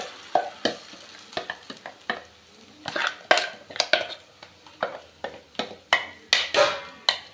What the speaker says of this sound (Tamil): இப்போ அரைச்சி வச்ச மாவை இதில் ஆட் பண்ணிக்க வேண்டியதான்